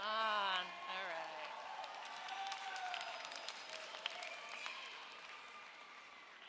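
Graduates at a 2017 Hofstra University undergraduate commencement applaud and cheer, a broad crowd of clapping and scattered whoops heard at a distance under a voice over loudspeakers, after a brief burst of music at the start.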